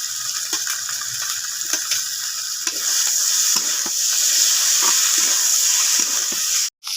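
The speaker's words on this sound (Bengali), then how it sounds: "এরপরে দিয়ে দিচ্ছি এখানে আমি জল।" Water is poured into a curry of green banana, potato and tomato cooking in a pan, raising a louder steady hiss and bubbling over the simmering, ending with a brief clatter.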